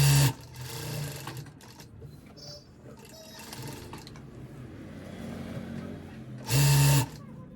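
A sewing machine runs in short loud bursts while stitching a reinforcing seam along the pocket of full-elastic pants, with quieter handling noises and pauses between runs.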